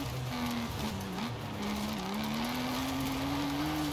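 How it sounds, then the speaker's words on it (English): A van accelerates in Forza Horizon 5, its engine note rising steadily as a continuous, fairly loud drone with a faint rushing noise over it. "The van is a little bit lighter, so its acceleration initially, I think, is a lot better than the truck."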